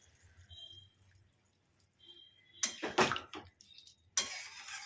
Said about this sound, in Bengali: নারকোলের পাউডারটা এরকম জলে গুলে রেখেছি, এরকমভাবে ঢেলে দেবো